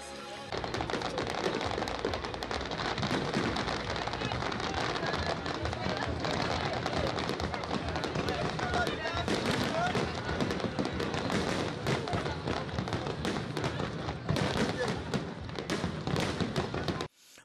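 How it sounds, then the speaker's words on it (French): A dense, continuous barrage of New Year fireworks bursts and crackles along the Général de Gaulle bridge, loud and sustained for the whole stretch, with faint crowd noise underneath. "Les bombes des feux d'artifice installées tout le long du pont général de Gaulle tonnent."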